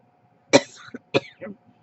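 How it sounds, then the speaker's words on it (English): Two quick, rough coughs close to the microphone, each followed by a short throaty rasp, in an otherwise quiet room. "excuse me about that coughing stuff."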